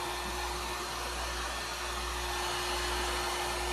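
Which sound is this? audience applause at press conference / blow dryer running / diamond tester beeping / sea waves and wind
blow dryer running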